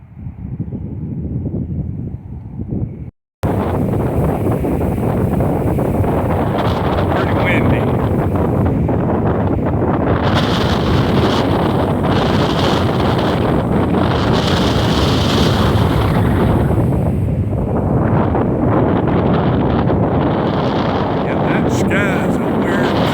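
Strong wind buffets a microphone outdoors under a red sunset sky, a loud, continuous roaring rumble that cuts out briefly near the start and then drives on steadily throughout, with no voices.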